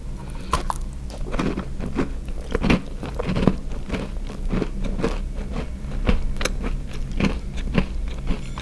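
Close, crunchy biting and chewing of a chocolate chip cookie with cheese-flavored dough, repeated crisp bites and mouth sounds in an irregular rhythm with no talking.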